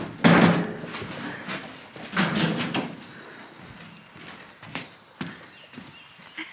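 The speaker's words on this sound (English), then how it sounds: "We have to get two closet doors from our shed that we don't use for Ian's closet" Hollow closet doors taken from a shed are handled, giving several loud hollow knocks and bumps followed by softer scraping and thuds at irregular intervals.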